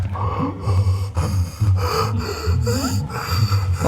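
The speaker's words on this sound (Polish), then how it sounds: "jeszcze dyszy sobie nad moim trupem" A monster in the Silent Hill video game pants over the player's corpse, giving loud, close, rasping breaths in a repeating rhythm of heavy, snorting huffs.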